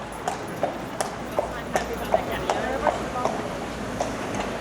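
Horse hooves clip-clop on a street in Palma de Mallorca, a steady, evenly spaced series of sharp knocks at moderate distance over a background murmur.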